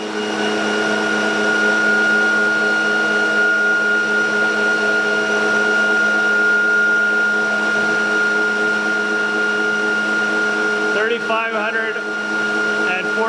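A ReGenX ebike motor runs steadily in motor mode, a loud constant mechanical whine with strong steady tones and a brief warbling flutter near the end.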